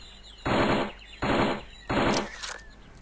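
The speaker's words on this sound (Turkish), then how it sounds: "Uzi ile etrafı taradım." Three bursts of rapid Uzi fire in the shooting game Storm The House, each lasting under a second with short gaps between them, loud and close.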